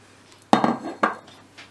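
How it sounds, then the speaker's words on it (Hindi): Boondi being tipped into a bowl for boondi raita, two sharp clinks of utensil on dish followed by a short rustling patter, close and quiet. "अब मैं आखिर में बूंदी डालने लगी."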